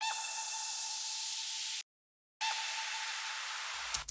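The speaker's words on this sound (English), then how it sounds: "There's like this downlifter," A downlifter effect in an electronic music drop sweeps down as a bright, airy noise wash, cutting out briefly to silence before returning, alone with no voices.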